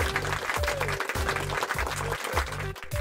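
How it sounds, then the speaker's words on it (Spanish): An audience applauds at a presentation in a steady burst of clapping, with a tonal musical sound running underneath and pulsing low beats in the background. "vamos a recibir con un fuerte aplauso a Wilhelm Conrad Röntgen."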